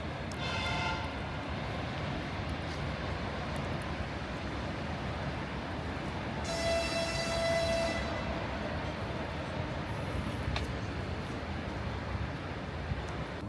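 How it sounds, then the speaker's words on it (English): A train rolls past on a railway beside a green residential neighborhood in Moscow, a steady broadband rumble throughout with a brief horn toot midway, heard from nearby at moderate loudness with no talking. "You can hear"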